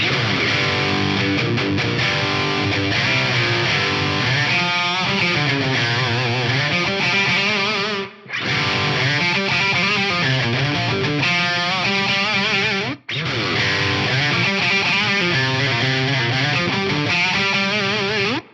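Clean-tone electric guitar chords ring out through lush studio, room and plate reverbs from an Axe-Fx modeler, played continuously with two brief pauses, full and loud with no voices.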